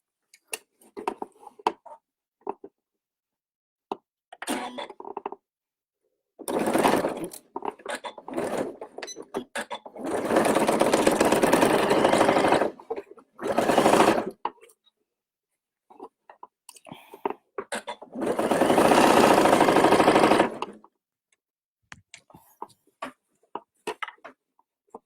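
A domestic sewing machine stitches a fabric headband, two sustained runs of fast mechanical whirring with shorter bursts and scattered clicks and handling noises between them, close and fairly loud.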